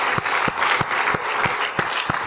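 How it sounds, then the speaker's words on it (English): A church congregation applauds during a Youth Sunday service, a dense, steady patter of many hands with a few sharper claps standing out, fairly close and loud, with no talking over it. "Just give them a round of applause."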